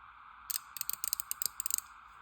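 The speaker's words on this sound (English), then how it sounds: "This is one of their 100 position ratchets." A Husky 3/8-inch stubby 100-position ratchet from Home Depot ratchets in a quick run of sharp, fine clicks, close and distinct, in a quiet room with no talking.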